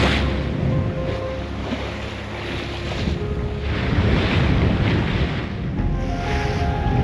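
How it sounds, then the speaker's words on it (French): Steady wind of about 15-17 knots buffets the microphone while waves slosh and surge around a moving sailboat, loud and continuous with no voices. "Là il y a bien du vent,"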